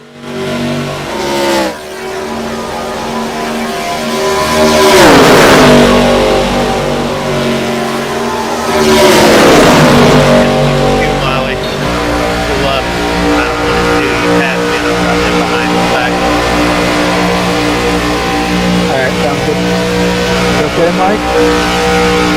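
Race car engines at Talladega in an iRacing ARCA series race, a loud steady roar of a pack of cars with two rising-then-falling passes sweeping by, continuous under commentary.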